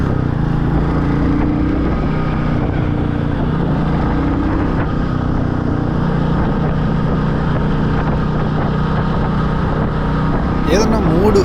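A black matte 2025 Royal Enfield Classic 350 cruises on a highway at sunset, its steady engine drone and rushing wind noise continuous and close throughout, with a voice talking over the ride.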